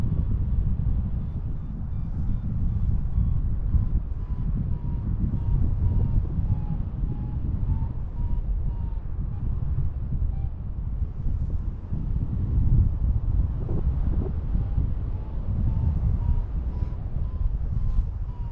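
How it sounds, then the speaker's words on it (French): Low, rumbling turbulent wind buffets the microphone continuously, swelling and easing in gusts with no voices present. "Parce qu'en gros, il y a beaucoup de vent."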